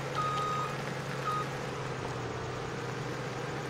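A vehicle's reversing alarm beeps steadily at a farm at night, a repeating electronic tone over a low engine rumble, moderately loud and a little distant, with no talking.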